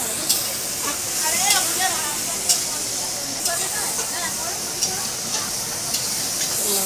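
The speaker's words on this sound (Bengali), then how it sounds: "আর মাংসটা ভেজে নিচ্ছে" Meat browning in a hot pan makes a steady hissing sizzle broken by periodic clicks and scrapes of stirring, with faint voices murmuring in the background.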